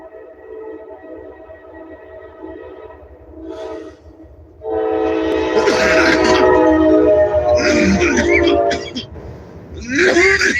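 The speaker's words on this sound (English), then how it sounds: "Train!" A train horn blares with rumbling rail noise, then loud bursts of throat clearing and coughing cut in over the passing train.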